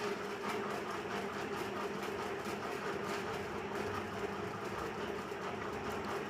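A sewing machine stitches the front part of a double-katori blouse, giving a steady mechanical whirr and rapid rattle at moderate distance, continuous and even for the whole stretch.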